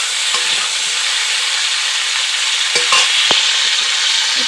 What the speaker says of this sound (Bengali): আমি ফুলকপিটাকে খুব ভালো করে ভেজে নিয়েছি,